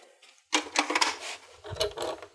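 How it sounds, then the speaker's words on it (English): A plastic insert on a BetterPress letterpress snaps into place, giving a sharp mechanical clack and a short rattle of parts, then a second smaller click, all close and loud with no voices. "So I'm just going to snap this in place."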